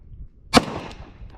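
A single sharp gunshot cracks out at a shooting match, close and loud with a quick decaying echo, followed by faint background noise.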